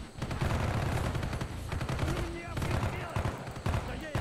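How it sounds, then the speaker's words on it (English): Rapid bursts of automatic gunfire in Call of Duty: Black Ops, loud and dense, rattling almost continuously with brief gaps while game music plays underneath. "These gun sounds really weird."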